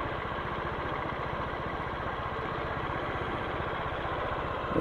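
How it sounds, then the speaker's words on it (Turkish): A 2012 Mondial 150cc scooter engine idles steadily nearby, a continuous low rhythmic putter holding even throughout with no talk over it. "Motoru da şöylece size bir göstereyim."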